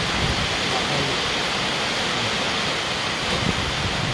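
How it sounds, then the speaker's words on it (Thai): Heavy rain pouring steadily during a live broadcast, a dense, even hiss that holds unchanged throughout with no breaks, moderately loud and close. "ฝนตกเยอะ"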